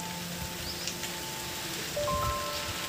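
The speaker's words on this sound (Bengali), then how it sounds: "এখানে জোরদার বৃষ্টি চলছে এখন" Heavy rain pours steadily in a gusty storm, a soft continuous hiss with faint scattered drips and a few distant bird calls in the background.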